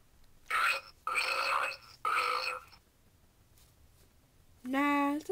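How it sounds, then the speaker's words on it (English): A series of exaggerated, silly burps from a puppet comedy bit, three broad noisy bursts in quick succession, then a pause and a final tonal, croaking burp, loud and close. "Now, for the dumbest burp."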